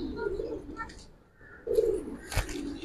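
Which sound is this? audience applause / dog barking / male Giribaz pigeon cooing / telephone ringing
male Giribaz pigeon cooing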